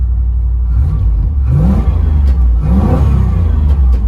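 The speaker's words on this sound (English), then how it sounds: "Got a little bit of exhaust leak." A 1991 Pontiac Firebird engine with its catalytic converter removed revs up twice with rising pitch, loud and close, over a rough idling rumble with a raspy, leaky exhaust note.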